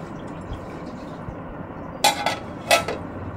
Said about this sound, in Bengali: দেখো এটা ঢাকা দিয়ে দেব